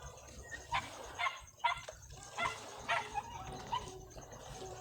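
A dog gives several faint yips and whimpers spaced a second or so apart, quiet and a little distant.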